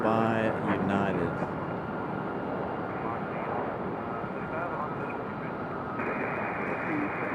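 A United airliner arriving at Raleigh-Durham airport, a broad steady engine roar that stays loud and even from start to finish, with a voice talking over the opening moments.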